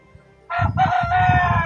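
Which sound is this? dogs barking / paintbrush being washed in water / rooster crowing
rooster crowing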